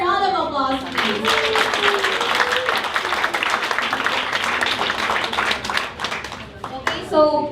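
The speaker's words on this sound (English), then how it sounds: "let's give them a round of applause, please" Dense audience clapping for the organizers of Startup Weekend Manila final pitches, loud and sustained for several seconds as a voice speaks over its start and end.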